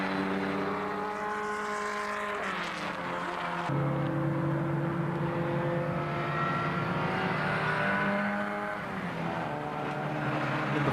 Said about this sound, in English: Number 47 going through there. That's the MGB Roadster of Jim Lowry.